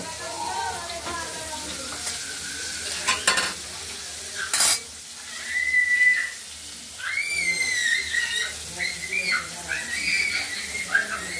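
Turmeric-spiced masala paste fries and is stirred in a pan for a rohu fish curry, with scraping spoon strokes and a steady low sizzle, plus a few sharp clinks and squeaky scraping streaks; no one talks.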